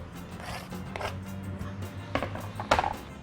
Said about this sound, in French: Maintenant, je vais mettre la oignon dedans.